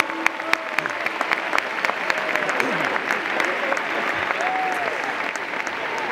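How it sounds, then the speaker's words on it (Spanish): Stadium crowd at Mestalla applauds veteran Valencia football players, a continuous roar of clapping with scattered whistles and cheers, while a voice speaks over the sustained ovation. "Pep Claramunt, Roberto Gil y Juan Cruz Sol, el aplauso infinito para ellos."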